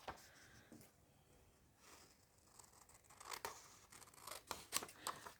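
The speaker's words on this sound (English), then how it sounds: "I'll just cut that out." Scissors cut through computer paper close up. A few quiet snips come first, then a run of crisp, rapid cuts grows louder toward the end, with no voices.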